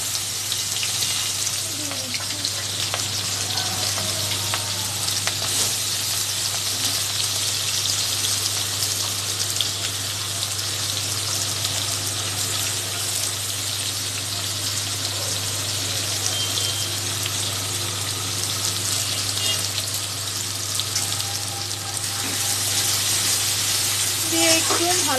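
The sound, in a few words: onion and green chilli frying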